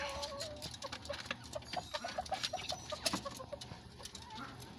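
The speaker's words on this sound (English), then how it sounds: "Kain natin ang ating Bantam chicken." Bantam chickens cluck steadily while being fed bananas, a series of short close clucks in an uneven rhythm against a low, noisy background.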